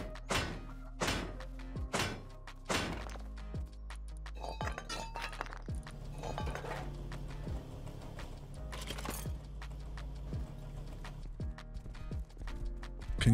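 A horse gallops in the survival video game Rust, its hooves making loud, rapid clip-clop thuds with clinking accents that run steadily throughout, with no talk.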